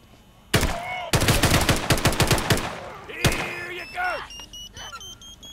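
Automatic rifle fire in No More Room in Hell 2 rattles off in rapid bursts, a long loud string followed by a lone heavy shot, with game effects and a voice speaking underneath.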